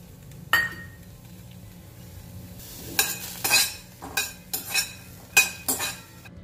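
Peanuts dry-roast in a pan while a spatula stirs them, giving a series of sharp scraping rattles and clinks, several in quick succession toward the end, over a quiet low background without talk.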